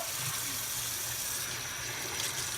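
Tap water runs steadily into a sink while the guts are rinsed out of a fish, a continuous close splashing gush with faint irregular spatter and no clear talk.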